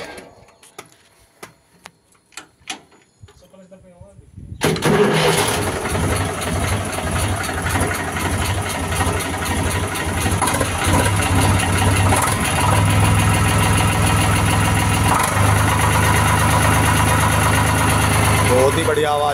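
An Eicher 485 diesel tractor from 2016 cranks and catches after a few quiet clicks, then settles into a loud, steady idle with a rapid rhythmic chug that runs on close to the microphone.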